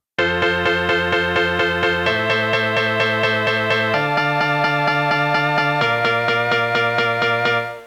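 A chord progression is played as steady pulsing synth chords in an even repeated rhythm, changing chords every couple of seconds, loud and full with no voices.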